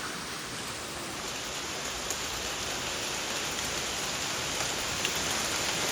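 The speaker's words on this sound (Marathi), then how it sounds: "एवढ्या मोठ्या गारा आहेत या. ह्या बेकार गारा पडतायत." Large hailstones falling hard outdoors during a storm, a dense, steady roar of impacts like heavy rain on surfaces, with a few sharper close hits standing out; no voices.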